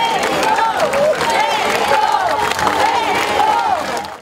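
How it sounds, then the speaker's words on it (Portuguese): Outside a church after a funeral for a former mayor, a crowd claps and shouts, a sustained loud wash of cheering voices with a singing-like chant rising and falling above the noise. "Na saída da igreja, mais aplausos e gritos de pessoas que vinham agradecer momentos vividos ao lado de"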